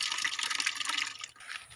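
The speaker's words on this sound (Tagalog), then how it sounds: "Titingnan po natin kung may tulo po yung pinakang gripo niya." Water from an opened faucet: a close, steady hiss and patter of falling water that drops off briefly near the end, then resumes more faintly.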